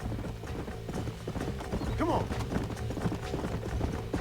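Several horses clip-clop at a brisk pace with a whinny rising midway, set in the Red Dead Redemption video game, as someone speaks briefly over the steady hoofbeats.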